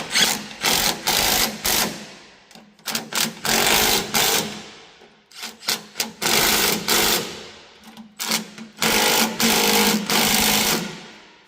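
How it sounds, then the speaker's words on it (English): Repeated bursts from a power tool, likely an impact wrench, tightening bolts while reinstalling half links on a chain or track, loud and close in several rapid rattling runs separated by short pauses. "Now we tighten our bolts back up."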